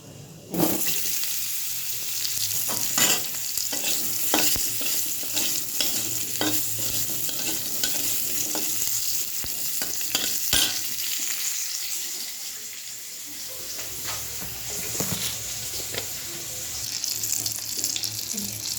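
A spoon stirs and scrapes sour green mango chutney frying in a pan, with scattered clinks and a steady sizzle and hiss running underneath at moderate loudness.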